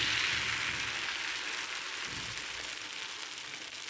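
Chickpea dosa batter sizzles steadily on a hot pan, a dense crackling hiss that stays even and fairly loud throughout with no speech.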